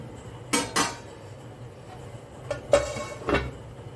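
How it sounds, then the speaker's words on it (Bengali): A metal kadai set down on a kitchen stove and handled, giving a few sharp close clanks in two pairs separated by a short quiet stretch. "কড়াই বসিয়ে দিলাম।"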